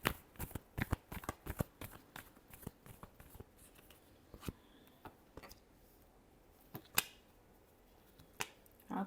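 Tarot cards are shuffled close up in quiet surroundings, a series of soft, sharp riffling clicks and snaps that come irregularly, bunched early and then sparser.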